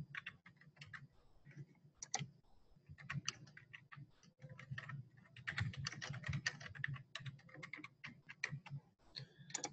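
Computer keyboard typing, with a burst of light clicky keystrokes followed by a denser, faster run of taps, close and quiet, with no talk.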